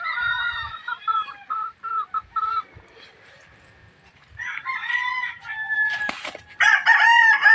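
Chickens cluck and a rooster crows inside a backyard coop, with bursts of calls near and loud, a short quiet gap, then overlapping crowing.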